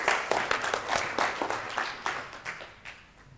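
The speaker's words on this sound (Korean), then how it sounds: "박수 한번 해주시죠" Lecture-hall audience applauding a student who answered correctly during a Korean entrepreneurship lecture; dense, steady crowd clapping at moderate level, fading slightly toward the end, no talk.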